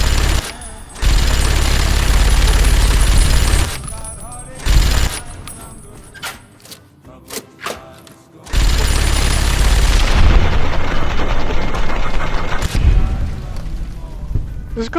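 Loud, dense bursts of gunfire from a weapon in the video game Fallout: New Vegas, with sustained rapid firing, a pause of scattered shots, then another long barrage, and a voice speaking over parts of it.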